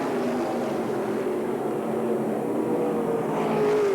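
Race cars at Manzanita Speedway during a 1990 Western World Championship race make a steady, loud, continuous engine roar with pack traffic, rising slightly near the end.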